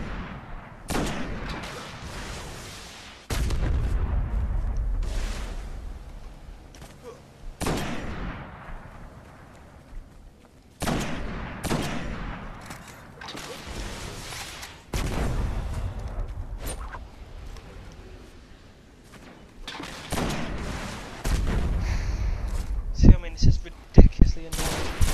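Weapons fire in the Destiny video game in loud bursts of gunshots and heavier booms, recurring every few seconds, with a voice speaking occasionally between them.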